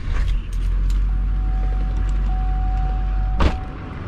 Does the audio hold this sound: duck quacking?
no